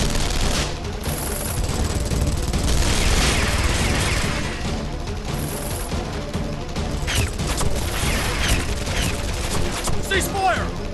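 Soldiers' gunfire in a Guilty Gear -STRIVE- cutscene set at the White House, dense rapid volleys and bursts mixed with crashes and booms over a steady bed of score, loud and continuous across the scene.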